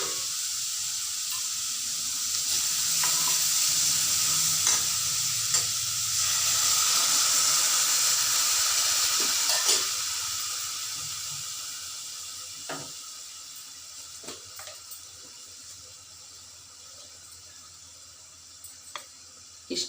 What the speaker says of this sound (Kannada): ಒಂದು ಸ್ವಲ್ಪ ನೀರು ಹಾಕ್ತಿದ್ದೀನಿ.